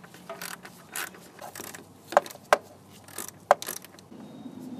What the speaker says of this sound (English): Just gonna use our ratchet with the 10 millimeter socket to tighten these back up.